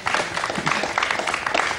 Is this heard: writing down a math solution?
no